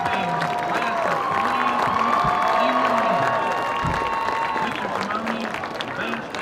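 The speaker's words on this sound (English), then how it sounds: "Let's give another round of applause to the Mighty Viking Band" Applause and cheering rise from a crowd at a high school football game for the senior members of the marching band, sustained clapping with scattered whoops under an announcer's voice.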